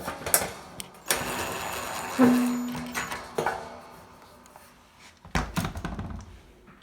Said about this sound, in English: while I put all these screws in